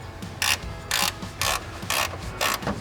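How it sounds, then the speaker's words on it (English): A ratchet wrench turns a bolt while installing a fan shroud, giving five evenly spaced bursts of crisp clicking, each about a quarter second long, close and clear with no talk. "If you use your ratchet wrench,"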